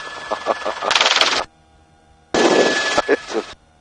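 A helicopter-mounted machine gun fires two sustained bursts of rapid, loud, close shots separated by a short pause, with a faint background hum between them.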